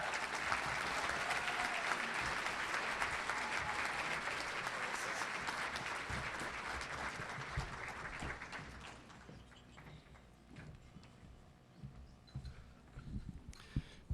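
Audience applause for scholarship recipients at a chamber of commerce dinner: a full round of clapping from a room of people, strong at first, then thinning out to scattered claps that fade away.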